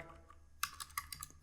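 Quiet clicking of fingers typing on a computer keyboard, a few soft keystrokes at first and then a quicker burst of close, crisp taps.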